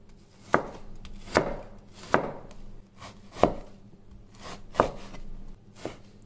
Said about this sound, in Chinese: 再把猪肉也是切片切丝。